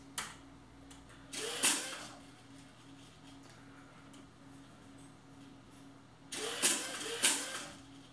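A small servo motor driven by Python PWM on a Raspberry Pi jitters in two short bursts of whirring buzz separated by a quiet hum, close and fairly faint.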